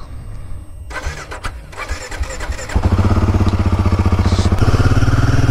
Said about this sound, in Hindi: बाइक स्टार्ट कर देते हैं